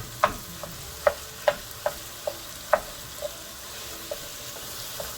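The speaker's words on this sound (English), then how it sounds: "We're gonna mix it until it's nice and brown. Kind of breaking it up with a spatula" Ground beef browning in a pan for lasagna, broken up with a spatula. Soft background sizzle with a series of sharp scraping and tapping strokes, fairly faint and close.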